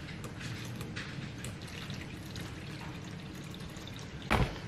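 Water, 250 g, is poured into a mixing bowl, a quiet steady liquid rush with faint drips and small clinks, close and alone, ending in a brief louder splash.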